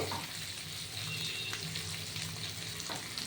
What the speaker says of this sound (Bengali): এভাবে আলুটা ভেজে নিচ্ছি হ্যাঁ আলুটা একটু লাল করে ভেজে নেব